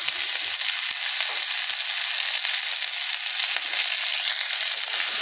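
Chopped garlic frying in a pan, a loud, continuous hissing sizzle heard up close and alone, holding steady throughout.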